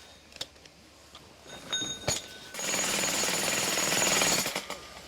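A jackhammer breaks concrete on a mason's work site, starting with a few sharp metallic clanks and then a sustained loud rattling hammering up close, with no voices.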